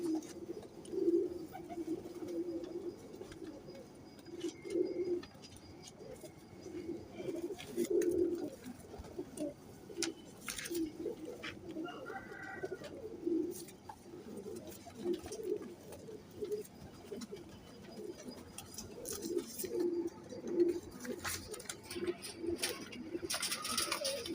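Sialkoti pigeons coo repeatedly in low, throaty murmurs, a steady overlapping stream of calls close by with faint background noise.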